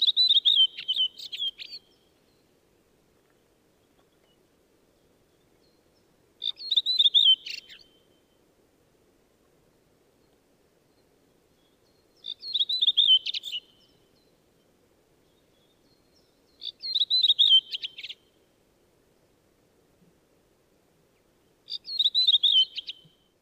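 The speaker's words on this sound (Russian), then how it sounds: "Дрозд-белобровик." Redwing thrush singing in the wild, five short bright warbling phrases repeating every few seconds with quiet pauses between, alone against faint background.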